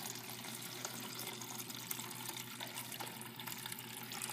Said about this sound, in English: So I'm going to fill up 2 glasses.